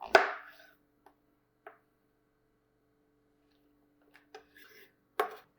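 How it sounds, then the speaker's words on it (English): A knife cuts mushrooms into strips and chunks on a cutting board, with one sharp chop at the start, a few sparse soft cuts, and a final firm chop near the end. "So we're just going to cut like this. Make strips, cut into chunks."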